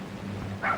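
A dog gives a single short, fairly loud bark near the end, after a quiet stretch of low background hum.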